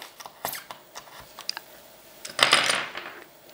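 Scissors snipping loose threads in a handcraft or doll-hair repair setting, giving a series of short, crisp clicks and snips close by, then a longer rustling cut near the end, with no talking.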